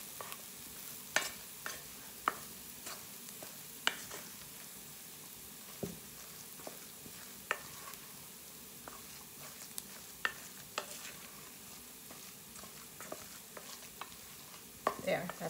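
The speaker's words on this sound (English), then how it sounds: "Let's stir the onions. And let's stir the meatloaf." A spoon works through onions and a raw meatloaf mixture in a pan, sharp clinks and scrapes at irregular intervals over a quiet background hiss.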